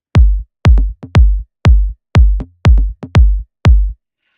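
Small studio toms with a kick drum strike eight punchy, evenly spaced hits with short decays, a few pitched tom tones riding over the deep thump, dry and close with no voices.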